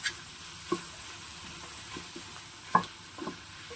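Mushroom paneer curry stirred in a frying pan, a steady soft sizzle broken by a few scraping clinks of a spoon against the pan, close and fairly quiet with no talking.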